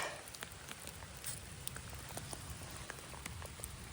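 Soft, steady rain patters on a surface, with scattered individual drops ticking faintly and no one speaking.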